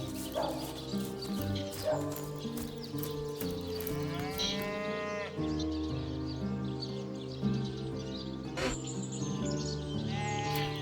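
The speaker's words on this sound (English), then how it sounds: "Found a sheep." Farm animals in Divinity: Original Sin bleat and moo in a string of close, loud calls, layered over game music and ambience, with wavering tonal cries recurring across the stretch.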